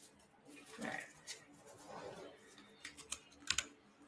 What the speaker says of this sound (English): I'm pushing buttons on my keyboard